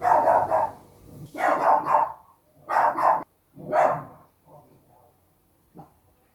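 A dog barks repeatedly in loud bursts, a few close together, then trailing off into fainter, scattered yips.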